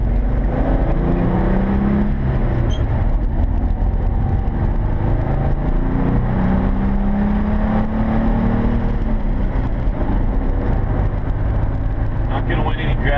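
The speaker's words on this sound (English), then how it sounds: "kind of accelerate and just show you how this thing will accelerate if you need to" A 1979 VW camper van accelerates onto a highway, its engine giving a steady low drone and road rumble that slowly builds, with someone talking over it.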